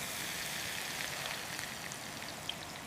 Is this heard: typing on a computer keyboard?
no